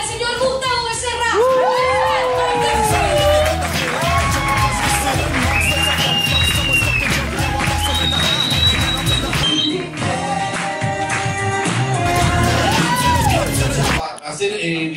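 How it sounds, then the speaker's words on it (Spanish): A comedy show audience cheers loudly with yells, whoops and clapping, a lively, dense crowd noise that holds for about fourteen seconds before briefly dropping off. "recibamos con un fuertísimo aplauso"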